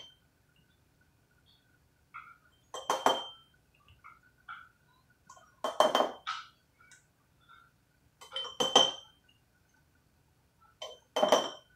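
Glass canning jars of diced tomatoes clink as a metal spoon adds salt to each, giving four short bursts of chinking glass and scraping metal spaced a few seconds apart in a quiet kitchen.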